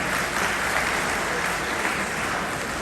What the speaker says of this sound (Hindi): वही एक बार जोरदार ताली होनी चाहिए